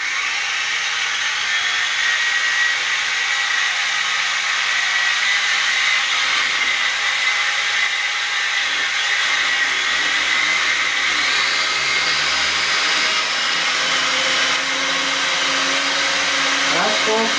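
Wltoys V949 quadcopter motors spinning at full throttle indoors, a loud continuous high-pitched whine with a broad hiss that holds steady and shifts slightly in pitch near the end.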